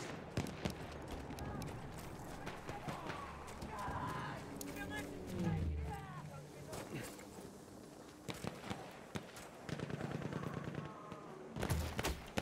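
Horse hooves clop in Battlefield 1 amid game combat, with gunfire bursts and rapid firing mixed in and voices talking over the action.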